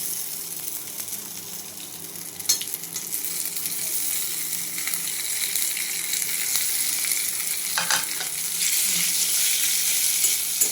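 Fried bread pieces and boiled potatoes being stirred in a frying pan give a steady, close hiss of frying oil with occasional scraping clicks, building slightly louder over time, without talk.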